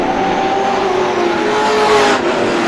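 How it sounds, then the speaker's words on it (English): Race cars in single file circling an asphalt speedway during a Granite State Pro Stock Series 100-lap race at Star Speedway: a steady, loud engine drone with a sustained pitch that swells slightly as cars pass, no voices. "cars single file on the track right now"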